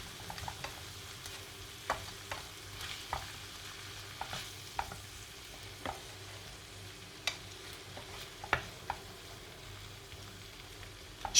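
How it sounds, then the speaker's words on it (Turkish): Tomatoes and other vegetables are stirred in a pan, soft scraping strokes and spoon clicks recurring at irregular intervals over a faint, quiet sizzle. "Domateslerimi de birkaç kez diğer sebzelerimle özleştirmek için karıştırıyorum"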